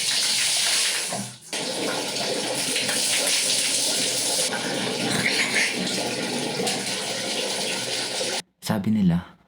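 Water gushes steadily from a tap or shower while someone bathes on a Mt. Pulag trip, a dense continuous splashing rush that briefly cuts out, then resumes before a final pause.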